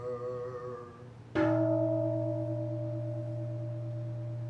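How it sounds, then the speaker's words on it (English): A Buddhist temple bell at a Zen Sunday service is struck once, ringing out with a bright attack and then a long, steady, sustained hum of layered tones that fades only slowly. "Here is the after sound of the bell"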